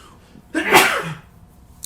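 A single sharp sneeze bursts out close by, brief and loud, against an otherwise quiet room.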